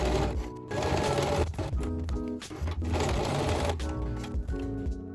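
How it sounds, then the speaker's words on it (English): A sewing machine stitches vest arm pieces together, right sides facing, front to back, running steadily with brief pauses and a fast mechanical needle rhythm close up. "So we need to take the arm pieces and sew them right sides together, front with the back."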